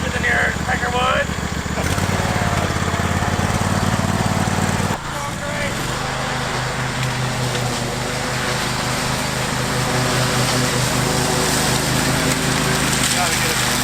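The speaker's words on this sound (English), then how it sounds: "I bet you my lawnmower's faster than yours" A lawn mower engine runs loud and close, droning steadily, then briefly dips and picks back up into a lower, rougher hum.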